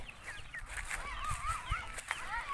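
Farmyard fowl at their pens on a rural Thai farm, honking goose-like calls and clucking that repeat in short rising and falling bursts at close to middle distance, over a low background rumble.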